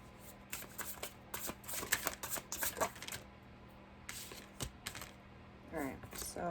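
A second deck of tarot cards is shuffled close up in quick riffling bursts of papery flutters and clicks, with brief pauses between rounds.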